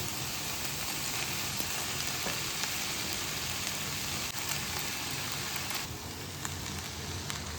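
Vegetable noodles with soy sauce, chilli powder and garam masala stir-frying in a pan, a dense, continuous sizzle like steady rain, fairly loud and close throughout with no voices.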